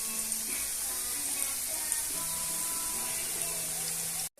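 Boondi batter drops into hot oil and fries, giving a steady, close sizzling hiss with faint bubbling throughout, with no talk, before cutting off abruptly at the end.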